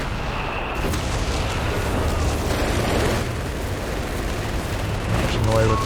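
Howitzer artillery fire in Company of Heroes 3, a continuous dense battle din of booming shots and explosions filling the whole stretch at steady loudness, with game voices mixed in.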